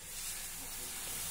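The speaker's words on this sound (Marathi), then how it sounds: "तवा नीट तापला की आता आपण यावर धिरडं घालूया" Dhirde batter poured onto a hot tava gives off a soft, steady hiss of sizzling that stays faint and brief.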